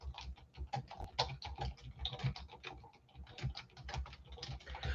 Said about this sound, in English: I'll type this in here